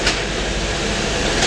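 A small train travels into a short tunnel on a summer trip in Switzerland, a steady close rumble of wheels and carriage running throughout, with a brief hiss at the start and another near the end.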